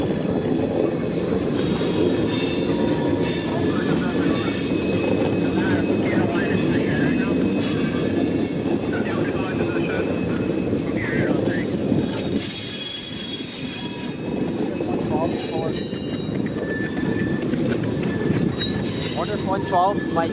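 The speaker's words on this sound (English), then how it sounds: "CN potash train." A CN potash freight train with locomotives at the front and rear passes close by, its wagons rumbling loudly and steadily while wheels squeal in high, sustained tones throughout.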